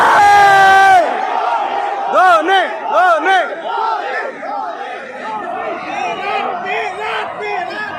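A large crowd at a cricket fan park in Bhubaneswar roars, whoops and chants together in rising and falling waves during an IPL CSK vs MI match, loud and energetic, with a shrill horn-like tone at the start.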